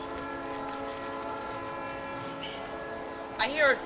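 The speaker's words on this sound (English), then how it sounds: "I hear a train." A train passing at a distance, a steady rumble with sustained tonal horn-like bands throughout, and a brief voice near the end.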